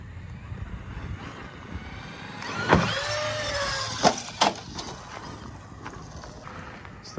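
A Kyosho Mad Wagon RC car runs, with a steady motor hum through the clip and a few sharp knocks and thumps near the middle, heard fairly close.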